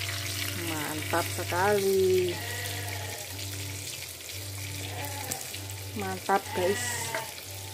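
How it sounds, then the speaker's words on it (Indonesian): Salted tilapia fish frying in oil in a home kitchen, a steady sizzle under a steady low hum, while someone talks briefly over it. "Ini goreng iwak tilapia asin."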